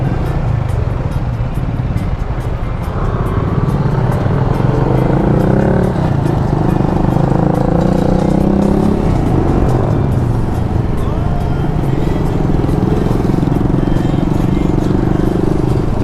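A motorcycle rides along a road toward Pangasinan, its steady engine drone and shifting revs continuous and close throughout, with wind and road noise mixed in.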